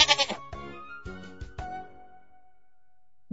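A goat bleating in a toddler animal-sounds puzzle game, a loud, wavering bleat followed by a few shorter, fading cries, then quiet before a brief sound at the end.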